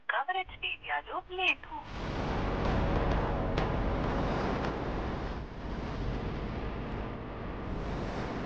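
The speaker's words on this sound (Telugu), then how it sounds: "స్కెచ్ పూర్తి అయింది అని సీతగారికి ఫోన్ చేసి చెప్పాలి" A few short electronic telephone keypad tones sound in quick succession at the start, then give way to a loud, steady rushing hiss that fills the rest of the clip.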